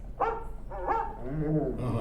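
A dog in a cartoon episode gives a few short barks and yips, close and fairly loud, followed by a whimpering, voice-like whine.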